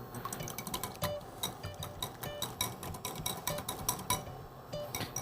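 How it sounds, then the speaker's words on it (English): Eggs whisked quickly in a small bowl, a fast, steady run of light clinking taps from the whisk against the bowl, quiet and close. "Then you'll give them a little quick whisk."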